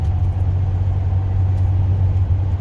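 Car driving along a highway past truck stops, a steady low engine drone and tyre rumble heard from inside the vehicle, even and moderately loud with no talking.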